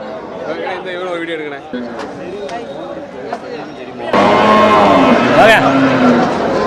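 A Jersey calf moos repeatedly amid a busy livestock market at Melapalayam, with crowd chatter and nearby talk around it, the sound growing louder and closer toward the end.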